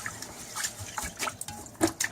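White rice is washed in water, giving soft irregular splashes, drips and swirling liquid sounds with small bursts, close by and fairly quiet, with no talk.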